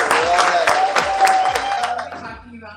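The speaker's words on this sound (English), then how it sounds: "Sarah Cauble. A round of applause." Applause from an audience welcoming author Sarah Cauble at a book event in San Francisco, a dense steady clapping that holds for about two seconds and then fades.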